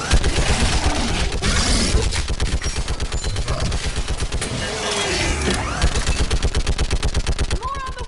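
A mounted gun fires continuously in Mass Effect 3, a loud, close, rapid and even stream of heavy automatic shots that runs through the whole stretch without a break.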